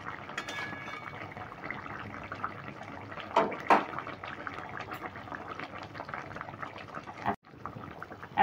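Pomfret fish curry in a mustard and poppy seed paste simmers and bubbles steadily in the pan, with a couple of brief clatters partway through and one short utensil knock near the end.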